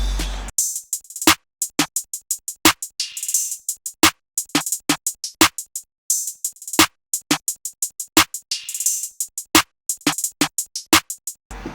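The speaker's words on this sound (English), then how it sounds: "And then after that we add the open hats." A programmed rap drum loop in which open hi-hats hiss just before each bar, over rapid closed hats, claps and snare and a low kick, the repeating groove heard alone.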